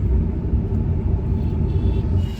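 A collision-damaged car still in running condition is driven to a workshop, giving a heavy, steady low rumble of engine and road noise from inside the cabin.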